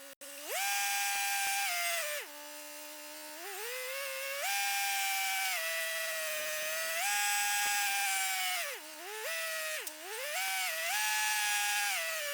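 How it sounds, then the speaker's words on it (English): A tractor pulls a row builder through garden walkways, loosening soil to hill potatoes. The engine drones loud and close throughout, its pitch dipping and rising with load changes, and no one speaks. "we have run the first pass with the row builder and loosened up the soil that has been in the walkways"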